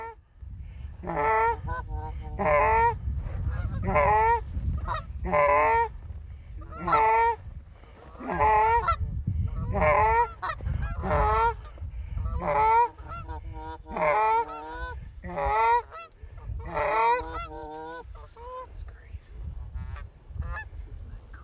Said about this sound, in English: The last 3 birds that flew over the spread couldn't be fooled into landing.